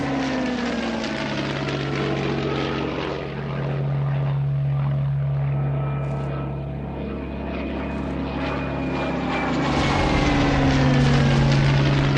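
A Heinkel 111 bomber flies over, its piston engines and propellers droning in a loud, steady roar with a slowly shifting pitch. The roar stays continuous for about twelve seconds and swells slightly toward the end.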